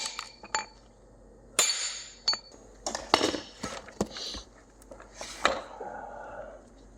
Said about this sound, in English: so we're going to use the brass drift